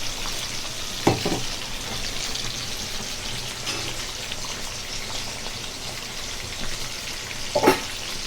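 Steady sizzling of chicken and radish kurma in a hot pan, with a couple of scraping clanks of a spoon stirring near the start and end.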